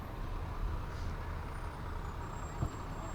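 A Berwick forestry fire truck rolls by in a holiday parade in Dover, a low, steady engine rumble at moderate distance with a brief knock partway through.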